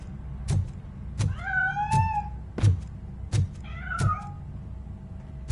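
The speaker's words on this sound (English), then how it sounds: "That cat must be hiding inside." A cat meows twice in drawn-out, wavering cries in the video game Robocop, set against a steady series of sharp rhythmic thuds roughly every half second.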